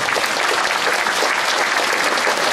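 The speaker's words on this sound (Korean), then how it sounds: "박수 한번" A crowd at a county governor's inauguration ceremony gives a dense, continuous round of applause, loud and even throughout with no pauses.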